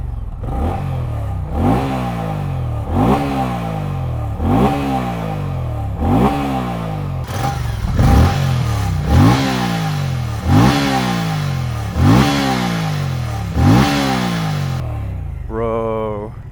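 A 2024 Moto Guzzi Stelvio V-twin motorcycle engine revs repeatedly nearby, about nine rising blips in a steady rhythm, each swelling loud and then falling back, ending in a short tonal whine.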